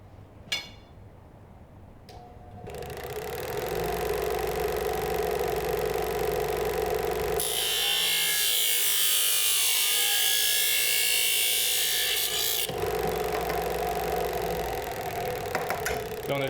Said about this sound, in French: au niveau de la scie, couper le bâton sur la ligne